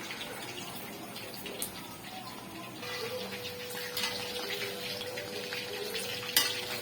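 Marinated boneless chicken pieces fry on a tawa for chilli chicken, giving a steady, close, hissing sizzle throughout with a few small pops and a faint, sustained tone in the second half.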